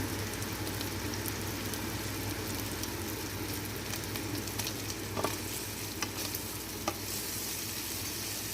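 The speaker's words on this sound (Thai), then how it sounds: "ผัดเบคอนให้สุกใส่กระเทียมสับและพริกไทย" Bacon stir-frying over medium heat with minced garlic and pepper, for an egg-based carbonara, gives a continuous close sizzle with a few light clicks and scrapes of stirring near the end and no talking.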